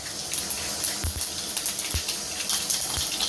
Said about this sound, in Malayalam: കുറച്ച് കടുക് ഇടുക